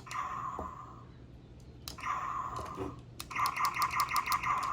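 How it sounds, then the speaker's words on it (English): Tinny electronic laser zaps from the speaker of an MP-36 Megatron Transformers toy, a few single blasts followed by a fast pulsing burst of repeated shots, close and fairly quiet. "He's got laser blasts."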